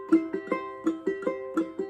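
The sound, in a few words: clawhammer ukulele accompaniment to I'll Fly Away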